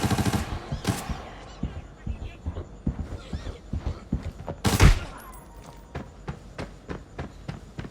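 Gunfire in the tactical shooter game Arena Breakout, with rapid bursts of shots and a heavy blast near the middle, then a run of evenly spaced single reports, close and fairly loud over faint voice.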